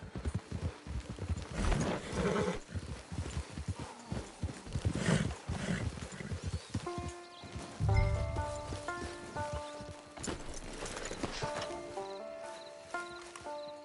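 Horse hooves clip-clop in Red Dead Redemption 2, a steady rhythmic trotting that runs through the first half before sustained in-game music tones take over.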